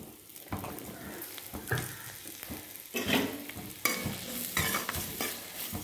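Potato slices sizzle in hot oil in a pan while a spatula stirs and scrapes them in repeated bursts, close and fairly loud, with no talking.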